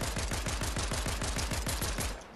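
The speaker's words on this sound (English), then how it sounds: "None of those fucking shots hit." Shooter video game gunfire, a steady automatic stream of roughly a dozen regularly spaced, booming shots in quick succession, loud and close with no talking over it.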